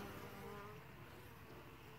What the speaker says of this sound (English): every bee coming in there has got pollen on their legs